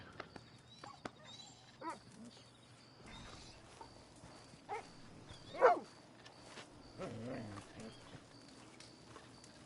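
A dog companion in Red Dead Online gives a few scattered soft barks and whimpers at a moderate distance over quiet campfire ambience.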